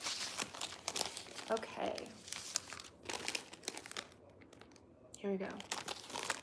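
Stickers crinkle and tear as they are handled while a foot peel is being prepared, producing dense rustling and crackling bursts close to the microphone, with someone speaking briefly over the noise.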